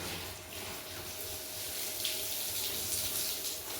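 Water runs steadily from a small pipe while a floor is washed, a continuous close hiss and splash that holds without a break and has no talk over it.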